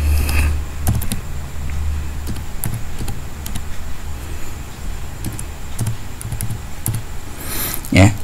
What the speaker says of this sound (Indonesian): kemudian ketik di telusur alamat IP-nya.